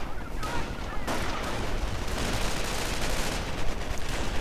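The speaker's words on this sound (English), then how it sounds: "I do believe we are hearing artillery somewhere." Battle noise from a WWII strategy game: dense overlapping gunfire and distant artillery booms rumble together in a continuous, loud barrage with no pauses.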